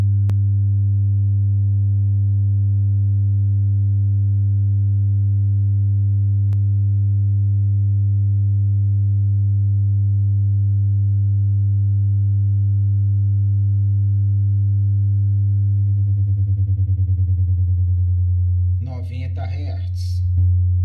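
A steady, loud 100 Hz sine test tone plays through a Pulse SP516 double 12-inch 2700 W speaker, holding constant for most of the stretch before wavering, with brief rattling and noise near the end.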